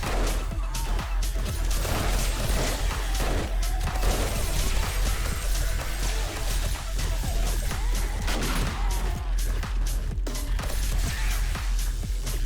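Shotgun fire in the zombie survival game 7 Days to Die during a horde night, with dense, loud gunfire blasts and crashing impacts packed continuously together under a chaotic combat din.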